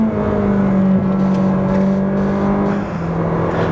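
Ferrari 458 Speciale V8 accelerating on a race track, a loud, steady high-pitched engine drone heard from inside the car with a slight dip in pitch near the end, no talking.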